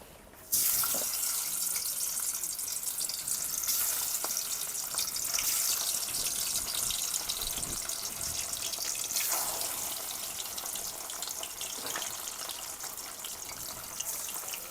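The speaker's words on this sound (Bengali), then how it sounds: "কড়াইতে তেল দিয়ে দিয়েছি, তেলও গরম হয়ে গেছে, এখন আমি মাছ দিয়ে দেব" Bele fish, rubbed with salt and turmeric, frying in hot oil in a kadai gives off a continuous bright sizzle with scattered small pops, steady and close throughout.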